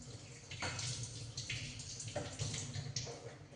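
Tap water runs steadily over a wooden rolling pin (belan) being washed at a sink, close and fairly quiet, with small splashes shifting as the pin is turned under the stream.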